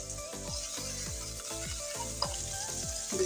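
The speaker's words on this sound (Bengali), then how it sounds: "আর দিয়ে দেবো কাঁচামরিচ কুচি।" Chopped green chilli drops into onions already frying in oil while the mixture is stirred. A continuous sizzle carries regular, rhythmic scraping strokes of a spatula against the pan.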